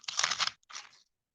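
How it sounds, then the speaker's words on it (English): A homemade air-fried pita chip snaps with a dry, close crunch, a brittle crackling burst followed by a shorter second crack as the pieces separate, then silence. "Let's see if we can hear a crunch when I break it."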